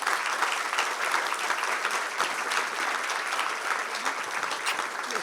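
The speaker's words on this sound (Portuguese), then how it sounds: "Palmas para Mary." Audience at a book fair stage applauding writer Mary Del Priore as she walks on, a steady crackling wash of many hands clapping, fairly close and sustained without pause.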